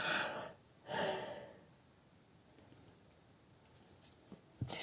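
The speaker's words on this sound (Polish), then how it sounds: "znowu ziewanie" A woman yawns twice in quick succession, each a soft, breathy exhale close by, followed by near-silence with a few faint clicks.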